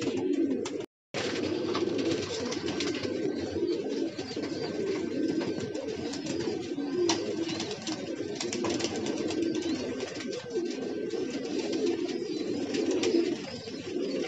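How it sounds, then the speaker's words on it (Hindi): Flock of racing pigeons cooing in a loft, continuous soft repeated coos from several birds close by, with a faint steady tone behind and a brief dropout near the start. "ये सब उड़ाने वाले कबूतर हैं ज़्यादातर"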